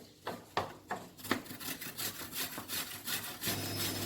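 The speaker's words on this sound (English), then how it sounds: "So now we take the grater and the apples and we grate the apples." Apples being grated by hand on a grater, a series of rhythmic scraping strokes, quiet and close, with a few sharper strokes at first settling into a steady back-and-forth rasp.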